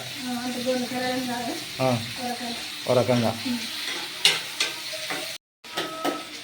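Garlic frying in a pan for sherva, a bright crackling sizzle with occasional stirring scrapes, heard under a woman's speech throughout.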